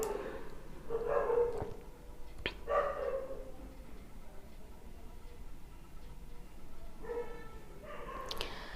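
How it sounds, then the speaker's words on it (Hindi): Dogs bark outdoors in a neighbourhood, several bursts of barking in the first three seconds and again near the end, with quieter stretches between. "इग्नोर करिए जो कुत्ते भौंक रहे हैं"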